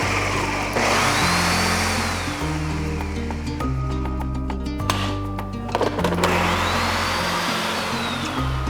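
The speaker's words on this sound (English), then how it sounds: "I just lightly fill my blender and then just pulse it a couple times." A kitchen blender pulsing a light load of fresh parsley, loud and close, with several short bursts of whirring motor whose pitch steps up and down between pulses.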